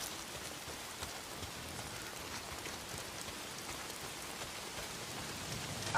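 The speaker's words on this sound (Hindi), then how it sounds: "अरे ये बारिश। अगर ये शैतान नहीं है, यह भयंकर बारिश।" Heavy rain in the video game Days Gone, a steady, even hiss of downpour on surfaces, soft and continuous, with scattered droplet patter and no voices.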